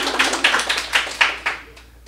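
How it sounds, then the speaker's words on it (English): Hands clap in a slightly uneven, moderately paced rhythm at a community arts honors event for single mothers, with about eight distinct claps close by before it trails off. "let's clap"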